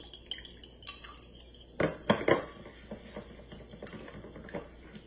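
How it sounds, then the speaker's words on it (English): An egg whisked in a bowl with a utensil, quick clicking and tapping strokes close by, irregular bursts with short pauses, no speech. "go ahead and just mix your egg"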